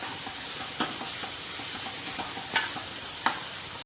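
Ginger garlic paste and onions roasting in a pan for pumpkin kofta, a steady close sizzle broken by a few sharp spatula scrapes and taps, no voices.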